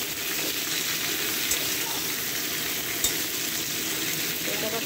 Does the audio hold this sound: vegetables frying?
yes